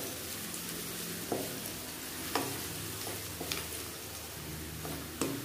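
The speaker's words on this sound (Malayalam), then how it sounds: "ഈ എണ്ണയിൽ കിടന്നിട്ട് നന്നായിട്ടൊന്ന് മൂത്ത് വരണം" Small onions sauté in oil for a garlic curry, a soft continuous sizzle with occasional light taps and scrapes of a spoon against the pan.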